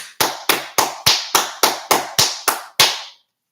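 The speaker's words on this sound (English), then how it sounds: "I'll give you a big round of applause on here" Ten sharp, evenly spaced hand claps ring out one after another, close and crisp, each with a short decay, in a slow steady rhythm with silence after the last one; no one speaks.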